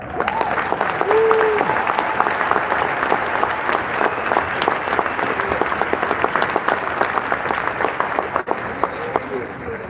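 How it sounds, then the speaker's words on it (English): Big round of applause from an audience for servant leaders at a gathering, a steady crowd clapping across the stretch with a voice briefly heard over it near the start. "give a big round of applause for our servant leaders who are here today"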